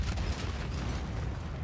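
Explosive gunfire and booming blasts from Firecracker rounds in the Call of Duty video game, a dense, continuous barrage of pops and thuds with no voices.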